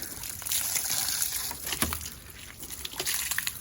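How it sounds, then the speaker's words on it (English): Water sheeting and trickling off the paint of a freshly ceramic-coated car being washed and dried, a steady close wash of running water with a few brief splashy bursts. "See how the water is falling off?"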